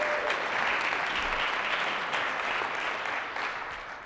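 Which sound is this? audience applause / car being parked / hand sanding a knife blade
audience applause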